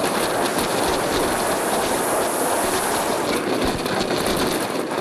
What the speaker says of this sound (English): makes a lovely mining clacky sound as the train runs up.